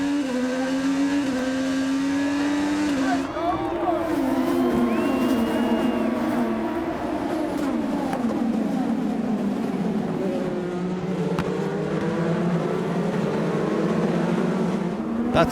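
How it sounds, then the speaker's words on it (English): IndyCar race cars at the season-opening 2018 Firestone Grand Prix of St. Petersburg roar off the start, a dense pack of engines howling and rising in pitch as they accelerate together, loud and continuous. "Ready for the start of the IndyCar Series season, and we're going green in St. Pete."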